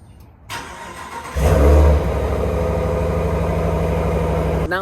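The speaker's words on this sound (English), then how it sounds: "I'll add the cold start right here." A 2024 Ram 1500 Limited truck fires up from cold: a short crank, then a loud exhaust flare before dropping into a steady, throaty idle that continues to the end.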